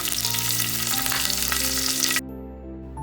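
Cumin seeds, a pinch of asafoetida and sliced green chilies frying in hot oil, a loud close sizzle with light stirring that cuts off abruptly, leaving a low hum.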